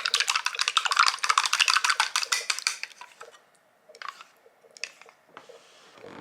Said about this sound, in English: We're going to give this a quick mix.